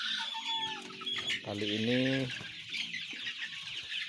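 Arab chickens cluck and squawk in front of their coop, several close, loud calls rising and falling, while someone briefly speaks over them.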